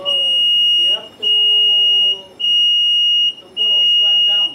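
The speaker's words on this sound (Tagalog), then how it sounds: "Then the second step, you have to stop the alarm." A fire alarm panel's buzzer sounds in four evenly spaced shrill electronic bursts, each about a second long with brief gaps, loud and close indoors.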